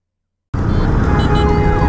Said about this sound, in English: It's Monday today and there's so much traffic.